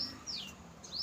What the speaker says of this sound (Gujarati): જો આ પંખી ગયા સાંજે ગયા પંખી